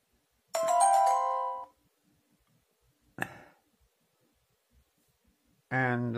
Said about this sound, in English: I'm not sure who just got a notification, me or Bethel.